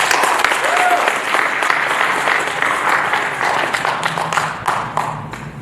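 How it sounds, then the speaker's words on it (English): A lecture audience in a university auditorium applauds steadily and loudly from start to finish, a dense wash of many hands clapping, with voices and cheers mixed in. "let's give her a round of applause"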